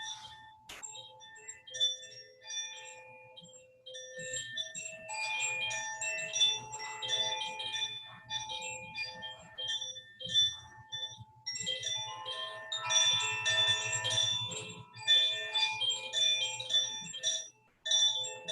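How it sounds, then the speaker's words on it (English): Wind chimes stirred by a gentle breeze on a beach, a continuous soft scatter of overlapping bright metallic tones ringing irregularly throughout, fairly quiet with a low hum beneath. "A gentle breeze comes along. You can hear it playing in some wind chimes."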